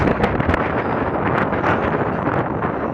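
Steady wind gusts buffet the microphone outdoors, a loud continuous rushing roar with no pauses.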